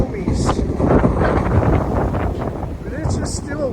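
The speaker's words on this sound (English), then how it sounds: "it's just still blustery windy out here" Blustery coastal wind on a pier, heavy buffeting gusts rumbling against the microphone throughout, with a voice talking faintly under the roar.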